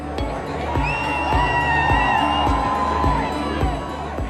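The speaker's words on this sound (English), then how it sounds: "Not surprisingly, the crowd went wild." A crowd cheers and whoops wildly at a Brixton station in London, an Afro-Caribbean neighbourhood, as a royal couple arrives for a public engagement. The roar is loud and sustained, with steady low thumps pulsing beneath it.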